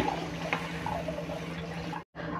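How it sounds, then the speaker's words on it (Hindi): Water runs in a steady, close pour into a cooking pan of arbi leaf curry, a continuous rushing trickle with a brief cut near the end. "इसमें मैं पानी डाल रही हूँ"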